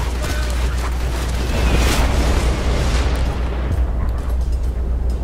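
A grenade explodes in the Borderlands 2 shooter game, a loud rumbling blast that swells and then rolls on as dense low noise with no voices over it.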